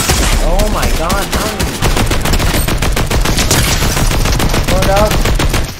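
Fortnite gunfire crackles in rapid, dense bursts that run almost without a break, loud and close. A voice briefly cuts through the shooting.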